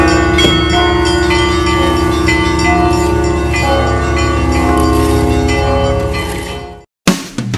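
Church bells ring out in Moscow's Greek quarter on Bogoyavlensky Lane, sounding as a dense, sustained peal of overlapping tones, loud and close, before cutting off abruptly near the end.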